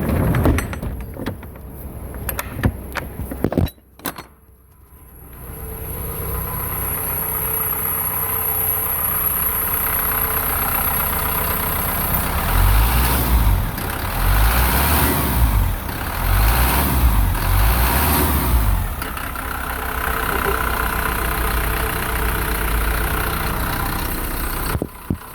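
A 2011 Isuzu NPR-HD box truck with a 5.2-litre diesel and a newly installed motor idles steadily and close by, after a few brief knocks and clunks at the start, with a throbbing low rumble that swells slightly midway.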